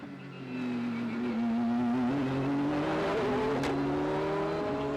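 Race cars at the 2013 Sebring 12 Hours ALMS race, including a Zytec prototype, roar loudly and steadily with a rising engine note as they pass close, a sustained high-revving drone throughout.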